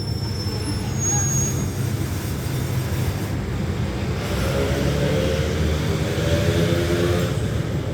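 Alsthom 4136 locomotive hauling rapid train 167 as it stops at Ban Pong station, with a loud steady rumble of rolling rail cars and squealing wheels throughout and no voices.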